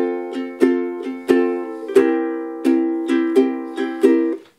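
A ukulele strums a steady rhythm for a song, alone and close, with about nine sharp accented strokes and lighter strums ringing between them.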